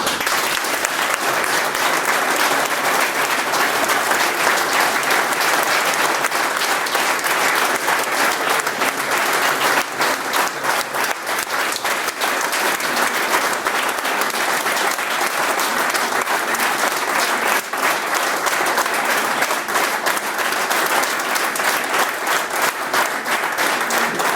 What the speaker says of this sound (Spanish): Vamos a dedicarle, si os parece, un aplauso, una ovación